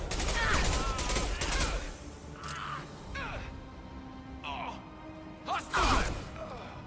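Bursts of gunfire in the Mass Effect video game, several rapid volleys of shots mixed with whooshes and mechanical clanks, with a voice talking between the bursts.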